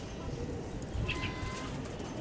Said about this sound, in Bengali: যেই কবুতর দুটো আনছি আপনাদেরকে দেখাচ্ছি